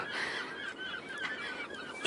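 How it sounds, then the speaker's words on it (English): A flock of young pinkfoot geese honks continuously at moderate distance, with many overlapping calls forming a busy chorus and no voices. "there's a flock of young pinkfoot geese coming this way"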